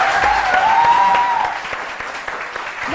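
Studio audience of a Hindi morning talk show breaks into sustained applause, dense and steady, with a faint tonal whistle or music line running through the first part before the clapping thins slightly.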